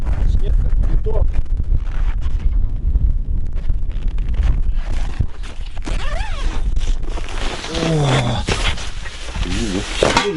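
Cold wind in a blizzard during an ice fishing trip, loud and gusting as it buffets the microphone throughout, with short bursts of voices breaking through near the end.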